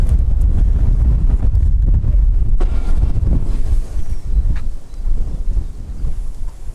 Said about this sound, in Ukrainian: Ух, дивіться який вітер зірвався.